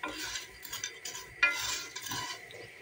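Noodles being stirred in hot oil in a pan for a noodle salad, with soft scraping and light sizzle in quick irregular strokes, close and fairly quiet, no voices.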